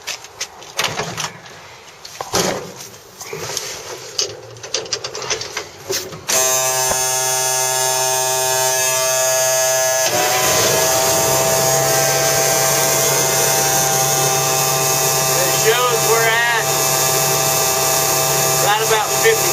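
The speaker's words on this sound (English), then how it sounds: "Now we just got to crank it up and let the air pressure build up." Air compressor mounted on a bug-out truck starts up and runs steadily, pumping air into the truck's air tank; a loud continuous mechanical hum with a rising pitch that holds for about thirteen seconds after some handling noises.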